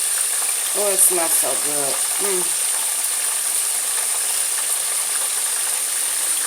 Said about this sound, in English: I just want to fry it to get it brown, and then after I show y'all, I'm going to fry the rest up